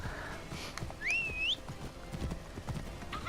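Horse hooves clip-clopping in Assassin's Creed Origins, a faint rhythmic trot of soft repeated thuds under background game ambience, with a brief whistle-like tone partway through.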